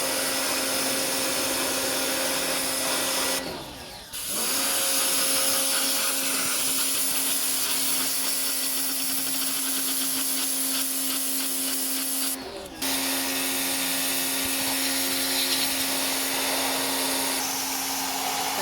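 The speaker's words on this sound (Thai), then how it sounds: "ช่างจัดการฉีดล้างความสะอาดแผงแอร์ด้านหน้าให้ค่ะ" A pressure sprayer washes the front air-conditioner condenser of a Mitsubishi Pajero with a 3.2 engine, a steady loud hiss with a constant whine that drops out briefly twice as the spray pauses.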